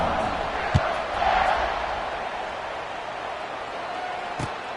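A football stadium crowd at a Baylor Bears game gives a sustained, fairly distant roar with a slight swell early on, then settles into a steady wash of cheering noise.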